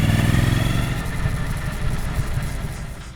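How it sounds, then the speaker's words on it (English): A Triumph Street Twin motorcycle engine runs on a Manhattan street, its exhaust pipes giving a steady, deep, throbbing burble that stays loud and close throughout, easing slightly toward the end. "Along with its handsome and sonorous pipes, it also speaks rather well."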